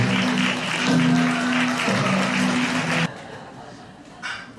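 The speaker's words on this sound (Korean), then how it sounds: "박수로 모시겠습니다." Audience applause welcoming a speaker at a health lecture concert, a steady wash of clapping with some talk over it, cutting off abruptly after about three seconds into quieter room sound.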